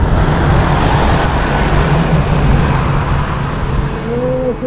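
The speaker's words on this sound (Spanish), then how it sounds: "Carro, carro." A car goes by on a mountain road on the Churín–Oyón route in Peru, heard from a bicycle. Steady, loud rushing road and wind noise runs throughout, and a rising engine tone appears near the end.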